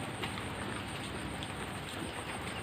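Steady rain falls outdoors at a rice-field eel and frog trapping site, a dense, even hiss of drops on surfaces with no voices.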